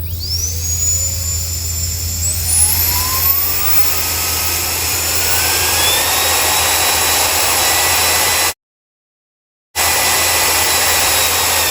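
A tiny electric ducted-fan jet engine running a thrust test on a 2-cell 2200 mAh LiPo gives a loud, steady, close whine that climbs in pitch as it spins up, with one brief dropout to silence near the end.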